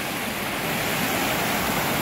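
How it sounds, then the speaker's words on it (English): Waterfalls and small rapids pour by a dam in a steady, dense rush of broadband water noise that holds even and loud for the whole stretch, with no voices. "We have so many waterfalls and little rapids going on."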